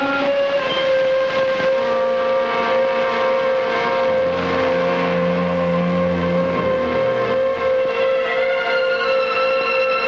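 Police sirens winding up in a radio drama, sustained wailing tones that rise and layer over a constant low engine rumble, loud and continuous throughout.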